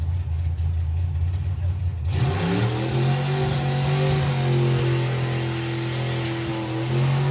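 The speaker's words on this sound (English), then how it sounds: "With the dragster." A drag racing car's engine at the Festival of Power starts up and revs loudly, holding a rising, sustained roar close by with a steady heavy drone beneath it.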